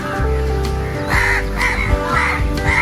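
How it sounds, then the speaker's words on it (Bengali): Several crows caw loudly and close by, their harsh calls repeating in quick succession and overlapping one another. "অনেক কাক চলে এসছে এখানে"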